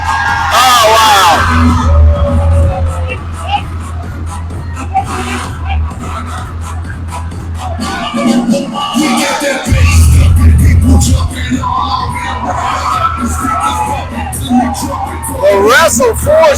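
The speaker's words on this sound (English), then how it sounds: "The Wrestle Force Tag Team Champions really getting the crowd whipped up here tonight." A live wrestling crowd at a tag team championship match in High Point cheers, whoops and yells loudly, the roar surging and easing with scattered bangs, under an announcer's commentary.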